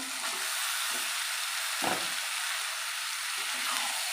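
Bombay duck (loitta) fish sautéing in oil with spiced potatoes in a pan, a continuous bright sizzle with occasional soft stirring scrapes, close and steady throughout.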